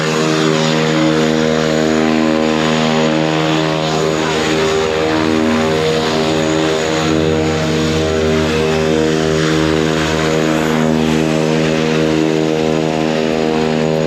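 Steady, loud drone of a propeller airliner in flight over scenic country, with strong layered engine harmonics and broadband cabin rumble holding constant throughout, no talking.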